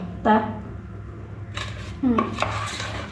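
Egg biscuit batter being mixed with food colour in a bowl, with a spoon clinking and scraping against the dish in short bursts while a voice speaks in between.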